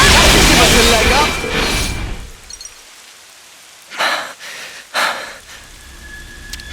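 Refreshing Rain skill effect from the video game Xenoblade Chronicles 3: a loud, rushing rain-like hiss for about two seconds that fades out, followed by two short, sharp bursts of sound.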